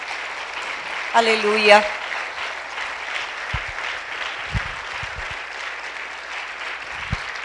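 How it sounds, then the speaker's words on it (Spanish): A church congregation applauds steadily throughout, a continuous wash of clapping at moderate distance, while a voice briefly calls out over it. "Vamos a darle un fuerte aplauso."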